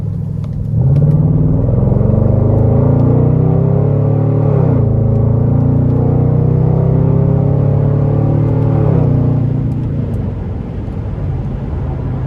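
A 2012 Chevrolet Camaro Convertible 2SS with a naturally aspirated 6.2 V8 pulls hard under full throttle, its loud engine note rising through the revs with two brief dips at gear changes before easing off near the end.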